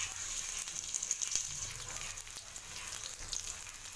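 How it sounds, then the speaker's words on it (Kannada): Onions frying in a little oil in a pan for a bitter gourd stir-fry, giving a steady, fairly soft sizzle with faint crackles and pops throughout. "ಸ್ವಲ್ಪ ಎಣ್ಣೆ ಹಾಕ್ಕೊಂಡು ನೆಕ್ಸ್ಟ್ ಸ್ವಲ್ಪ ಈರುಳ್ಳಿ ಸ್ವಲ್ಪ ಈರುಳ್ಳಿ ಕೆಂಪಗಾಗಲಿ"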